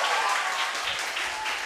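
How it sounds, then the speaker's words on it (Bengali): Brief burst of steady applause from a small group, close and even throughout with no break. "হবে একটু তালিয়া প্লিজ"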